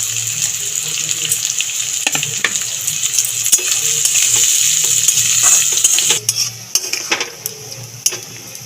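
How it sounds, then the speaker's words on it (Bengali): Carrots, beans, chopped onion and chili fry in a pan for a vegetarian sago pulao, giving a continuous sizzle with scattered metallic clinks and scrapes of stirring, and louder clatter toward the end. "গাজর আর বিনসটা ভাজতে ভাজতে এবার আমি কেটে রাখা পেঁয়াজ,"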